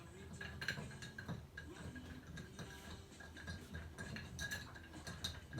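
Spoon stirring Rhum Daisy cocktail ingredients in a glass, soft repeated clinks and scraping against the glass, faint and close.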